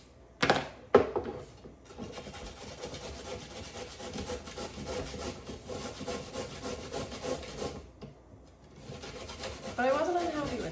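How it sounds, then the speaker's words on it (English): Food being grated on a large kitchen grater, a steady scraping rub that runs continuously for several seconds after a couple of sharp knocks, close and fairly loud with no talk over it. "I'm going to finish up with a larger grater."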